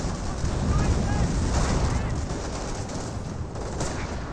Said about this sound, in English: Snipers getting some good shots in there.